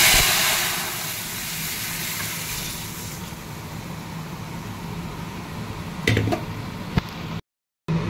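Mung dal tempered with dried chilli, bay leaf and cumin sizzles loudly at first, a broad hiss that slowly fades, with a couple of brief clinks near the end.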